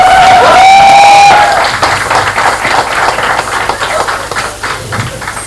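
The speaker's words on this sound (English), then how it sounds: "Please welcome all our panelists with a huge round of applause." Loud applause and cheering from a crowd at a book launch event in Mumbai, with a brief whistle near the start, followed by steady clapping that holds through to the end.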